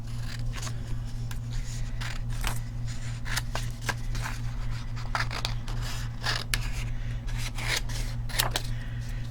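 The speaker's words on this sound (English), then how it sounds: "So let me get my scissors." Scissors cut through card for a craft project, a rapid run of short snips and scraping rasps close by over a steady low hum, with no talking.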